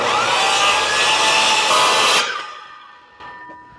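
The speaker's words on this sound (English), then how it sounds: "I'm going to put my skill saw on the line" A skill saw rips along a marked line in shed lumber, a loud sustained high whine for about two seconds that cuts off and spins down, followed by a faint knock.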